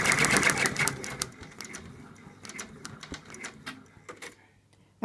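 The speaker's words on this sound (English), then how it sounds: "now we're going to sew the placement line for the trunk" An embroidery machine stitching the placement line for an elephant's trunk in an in-the-hoop project: rapid mechanical needle tapping, loud and dense at first and then thinning to sparser clicks.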